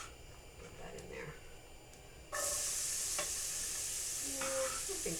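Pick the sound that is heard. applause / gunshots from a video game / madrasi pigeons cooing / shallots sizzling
shallots sizzling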